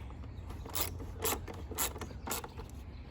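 A hand ratchet drives bolts into plastic on a Ford Escape during an air filter replacement, giving four soft, evenly spaced bursts of clicking close by in a quiet space.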